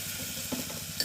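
Carrot and bean pulao stirred in a hot pan, a brief steady sizzle with soft scraping under it, close and quiet with no voices.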